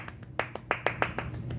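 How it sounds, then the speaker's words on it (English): A short round of applause made of separate, sharp hand claps in an uneven rhythm, close and fairly loud, with no talking over it. "Come on, a round of applause."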